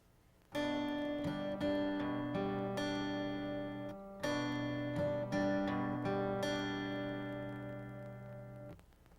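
Acoustic guitar picked note by note, mixed with fuller strummed chords that ring out in a steady, unhurried pattern.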